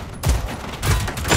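Gunfire rings out at hostile machines in the video game Generation Zero. Two loud, close bursts of rapid shots arrive about half a second apart with no talk.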